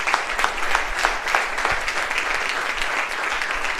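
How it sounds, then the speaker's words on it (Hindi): Steady applause from a classroom audience honouring a hardworking student at a Teachers Day event, dense continuous clapping lasting throughout with no talk over it. "इसके लिए इनका जो ताली बजनी चाहिए।"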